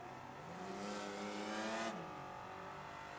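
A 1972 Chevelle with a V8 at a drag strip, its engine note rising as it revs and pulls away, loud and close, then settling back, with no talk over it.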